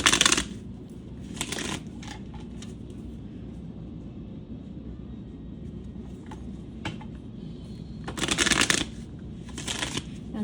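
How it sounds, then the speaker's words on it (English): Tarot cards being shuffled up close in a few short, crisp riffling bursts at the start and near the end, separated by quiet stretches of low background hum. "I'm going to pull some tarot cards on this"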